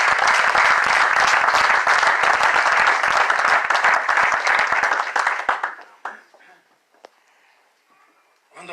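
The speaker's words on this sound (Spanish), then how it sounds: "Den un aplauso al Señor." Church congregation applauding, loud dense clapping that holds steady for several seconds, then thins to scattered claps and fades to near quiet, with a few last claps at the end.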